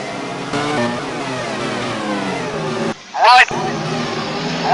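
A Formula 1 car heard onboard with Barrichello at Interlagos in 2002, a loud high-pitched engine scream holding steady, briefly dropping and flaring around a gearshift before climbing again.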